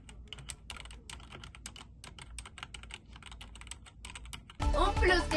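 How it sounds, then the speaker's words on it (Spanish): Typing on an E-yooso Z686 65% hot-swap keyboard with Outemu brown switches gives a steady run of quick, soft clacks, followed at the end by a voice. "A comparación de los teclados convencionales, este será súper silencioso"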